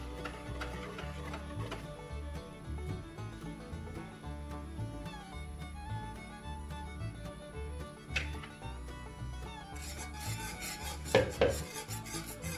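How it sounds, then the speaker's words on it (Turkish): A whisk clinks and scrapes rhythmically against a metal pot while pastry cream mixture is stirred into hot milk, fast repeated metallic strokes at close range with a few louder knocks toward the end. "altına yapışmadan güzelce hızlı hızlı karıştırmamız gerekiyor"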